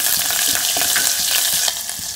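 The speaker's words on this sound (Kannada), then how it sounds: "ಎಣ್ಣೆ ಕಾದ್ಮೇಲೆ ಜೀರಿಗೆ ಹಾಕಿ ಸ್ವಲ್ಪ ಫ್ರೈ ಆಗಲಿ" Cumin seeds fry in hot oil in a pot, giving a close, loud, continuous sizzle with a faint crackle throughout.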